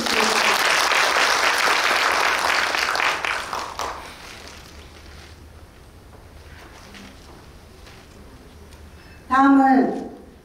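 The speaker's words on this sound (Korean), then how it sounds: "큰 박수 부탁드립니다." Audience applause at a childcare center association conference in Suncheon, a loud sustained burst of clapping that fades over about four seconds into quiet room tone, followed by a brief loud voice near the end.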